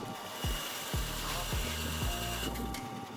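A bandsaw cuts a nub off a piece of wood, giving a steady running hum with four or five short, repeated cutting surges in close succession.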